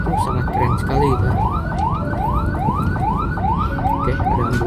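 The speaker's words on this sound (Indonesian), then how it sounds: "Oke, ada ambulan." An ambulance siren passes outdoors, a loud, steady wail that sweeps up again and again in an even rhythm over traffic rumble, with no voices.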